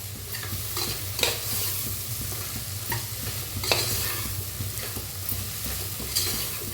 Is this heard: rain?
no